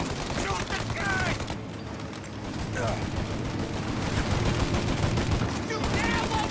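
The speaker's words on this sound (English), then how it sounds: "Shoot out your gun when there's a break in the fire!" Rapid gunfire from a shootout in Mafia Definitive Edition, continuous bursts of shots crackling close and loud, with voices shouting over the battle.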